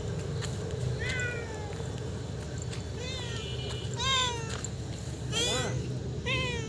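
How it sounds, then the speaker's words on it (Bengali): A cat with an injured leg meows repeatedly and close by, giving several rising and falling cries over steady background noise while a person talks quietly at times. "জঙ্গলে চলে যাচ্ছে বিলাইটা আবার।"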